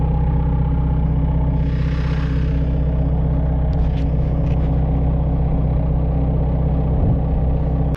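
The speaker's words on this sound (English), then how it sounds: "I pulled back with the tractor now, just put some tension on the chain." A tractor engine runs loud and steady as it pulls back to put tension on a chain attached to the undercarriage of a JCB JS130 excavator during slew bearing replacement, a constant close drone throughout.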